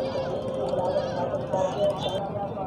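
Goats bleat over a dense, steady livestock market crowd at a Pakistani goat mandi, the calls mixed into continuous close chatter and bustle with people talking throughout.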